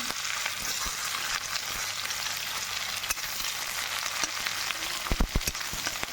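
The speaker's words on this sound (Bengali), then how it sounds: "পেঁয়াজটা দিয়ে এখন ভাজি ভাজি করবো" Onions sizzle and fry steadily in a pan with bay leaves for an egg curry, a dense continuous crackle with a few sharper pops near the end, close and fairly loud, with no talking.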